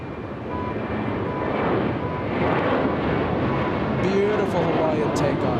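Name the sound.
Hawaiian Airlines Airbus A330 taking off at LAX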